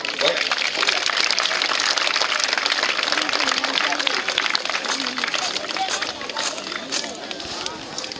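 Crowd at an outdoor falcon flight demonstration applauding steadily, a dense patter of many hands clapping with babble and voices mixed in, fading slightly toward the end.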